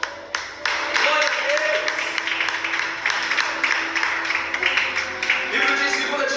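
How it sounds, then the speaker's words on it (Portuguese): Congregation in a church applauding the Lord during a sermon, many hands clapping in a continuous bright wash while a voice speaks a short phrase over it near the start. "Você que acredita, aplaude o Senhor."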